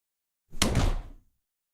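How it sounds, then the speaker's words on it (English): A door slams shut with a single heavy bang, close and loud, its boom fading over about half a second with no talk. "slammed the door behind us"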